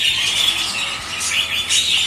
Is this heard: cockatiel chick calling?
yes